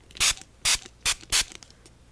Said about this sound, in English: And again, we'll give it a good spray.